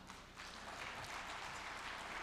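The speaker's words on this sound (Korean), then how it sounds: "박수 좀 부탁드립니다" Steady audience applause at a Korean peace forum lecture, a dense wash of many hands clapping that swells after a brief quieter start and holds evenly.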